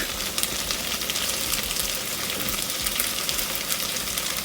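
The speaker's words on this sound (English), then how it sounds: "now I'm adding coconut milk" Coconut milk hits a hot pan holding veggie pasta, setting off a steady, close, loud sizzle and frying hiss that carries through without pause and with no talk.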